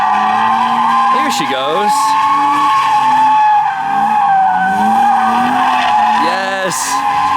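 BMW E30 fitted with individual throttle bodies drifting on a track, its engine note rising and falling as the throttle is worked, with loud bursts of tire squeal against a steady roar and a voice speaking over it.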